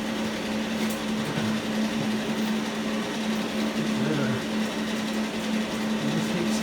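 Stitch welding along a rusty crew cab truck door panel gives a steady, loud, continuous buzzing hum with a faint crackle, unbroken from start to finish.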